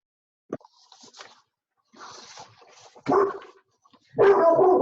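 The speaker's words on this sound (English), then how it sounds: "Sorry, I have dogs." Indoor dogs bark in a few short bursts and yips, growing louder and closer toward the end, with whimpering sounds between them.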